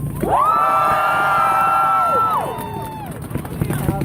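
A rally crowd at a March For Our Lives event in Des Moines cheers and whoops loudly and steadily for a speaker, one long sustained whoop riding above the roar before it eases into scattered crowd noise.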